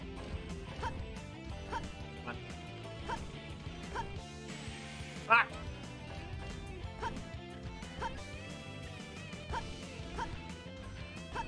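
Dog barking in the video game Sonic Adventure 2, a rapid run of sharp yips and bow-wows over game music, with a brief crash midway.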